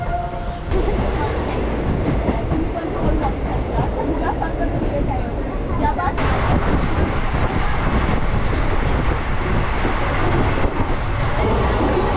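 A passenger train running from Howrah toward Rampurhat gives a continuous loud rumble and rattle heard from inside the carriage, steady throughout with faint clicks of wheels on the rails.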